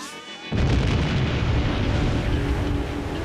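A large blast set off by the MythBusters team erupts suddenly after a brief quiet lead-in, then a loud, sustained rumbling roar fills the rest of the moment without any talk.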